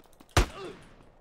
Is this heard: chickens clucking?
no